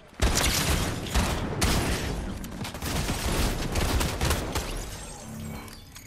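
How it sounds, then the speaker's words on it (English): EMP grenades going off during a Fortnite match, a dense run of loud, close blasts and crackling bursts lasting several seconds with almost no pause. "Someone's throwing EMP grenades at him."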